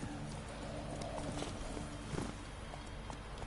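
A horse in The Witcher 3 clip-clops along at a walk, heard as steady, faint hoofbeats under a continuous game ambience.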